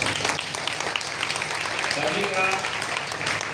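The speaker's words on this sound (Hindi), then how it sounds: "एक बार आप सब अपने लिए जोरदार तालियां बजाएं।" A crowd at the seventh day of a Shrimad Bhagavat Katha in Kurukshetra claps in a sustained wash of applause while someone speaks over it.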